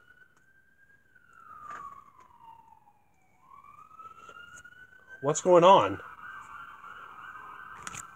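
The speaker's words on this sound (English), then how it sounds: "Sounds like an ambulance." An ambulance siren in the animated Thomas and the Lost Railway wails steadily, its pitch sliding up and down, while a person briefly speaks over it partway through.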